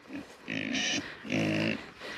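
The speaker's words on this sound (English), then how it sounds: "What's them piggers doing, huh?" Pigs on a homestead grunt and oink in two loud, close bursts with quieter snuffling between them.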